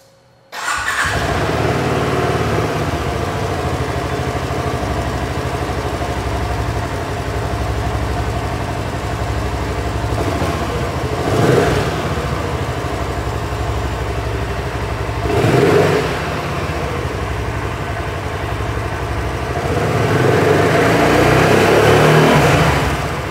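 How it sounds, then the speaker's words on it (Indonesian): A 650cc single-cylinder BSA Gold Star motorcycle engine on its stock exhaust starts and runs loudly and close by, with a thumping idle and a few short revs. "Gimana sih suara mesin 650 cc 1 silinder?"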